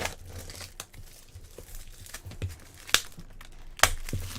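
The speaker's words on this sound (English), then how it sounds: "I've lost my ability to rip plastic off of boxes." Plastic shrink wrap is torn and crumpled off a Pokémon card box, with soft continuous crinkling broken by sharp rips, two of them loud near the end.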